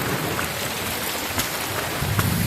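Heavy monsoon rain in the Konkan countryside, a steady dense downpour roaring close by with a few sharp spatters and a low rumble swelling near the end, no voices.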